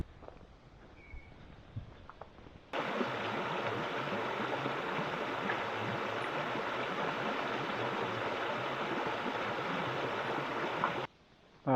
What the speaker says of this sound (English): Down to the waterfall here.